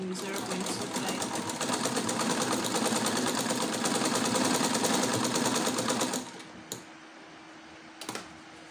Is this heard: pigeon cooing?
no